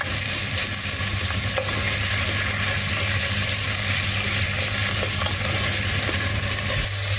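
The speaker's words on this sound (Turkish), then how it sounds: "Onları da ekleyip soğanla güzelce kavuruyoruz." Onions with tomato paste and pepper paste fry in a pan, giving a loud, steady sizzle and hiss that runs on without a break the whole time.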